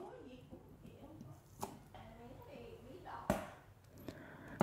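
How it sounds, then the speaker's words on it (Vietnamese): Knife chopping green onions on a cutting board while cooking stir-fried beef with asparagus, a few sparse, sharp chops scattered under a person talking throughout. "Các cọng hành lá thì mình sẽ sắc nhỏ nhỏ ra nha quý vị."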